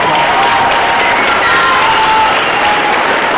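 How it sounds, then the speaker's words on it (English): Loud, close, continuous applause fills the room at a middle school winter concert, a dense wash of clapping mixed with crowd cheering that holds steady throughout. "Round of applause."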